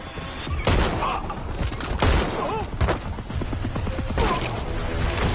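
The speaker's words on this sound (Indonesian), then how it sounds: "Di tengah baku tembak yang masih berlangsung" Dense gunfire from a movie shootout scene, a relentless loud barrage of shots and crashes with booming impacts, continuous over its whole length.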